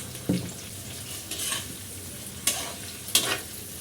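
Chili, ginger-garlic and onion paste frying in a pan for prawn pulao, a steady low sizzle broken by a few sharp scrapes and clinks of a spoon stirring.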